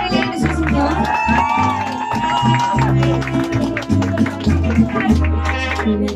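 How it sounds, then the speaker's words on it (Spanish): Audience at a mariachi birthday performance claps and cheers with whoops over lively crowd noise, while a voice talks through the applause. "Y que se escuche ese fuerte aplauso, Julián"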